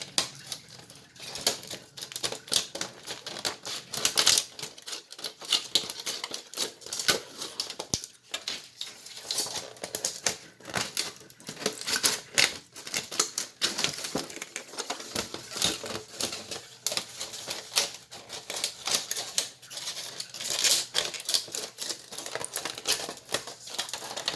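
Sharp snips of cutting through a thin metal cookie sheet to shape sunflower petals, rapid irregular clicking and crunching bursts up close, continuing steadily with no talking.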